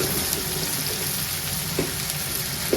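Fish sautéing in a pan on a village stove, a continuous close sizzle and frying hiss with a few faint scraping stirs, no voices.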